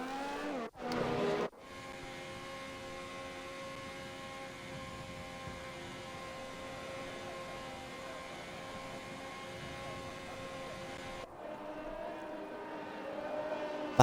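Race cars in a Grand Prix racing video game at the Italian circuit: a steady, continuous engine drone from many cars, level and unbroken, with a short burst at the start and a brief gap near the end.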